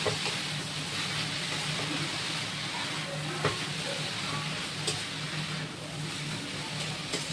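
Noted greens and prawns fry in a pan with turmeric and salt, a quiet, even sizzle with a few faint stirring scrapes and clicks, no voices.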